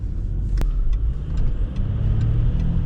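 A Jaguar S-Type with the 2.7-litre V6 diesel idles or runs steadily, a loud low rumble filling the space with an even hum and a brief sharp tick near the start.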